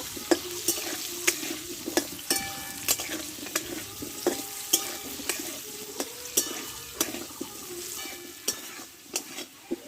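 Potato pieces with turmeric and salt fry in hot oil under a steady close sizzle. A spatula stirs and scrapes the pan over and over, making sharp, frequent clinks with no speech.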